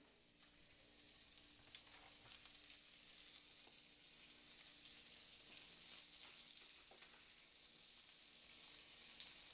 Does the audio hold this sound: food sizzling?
yes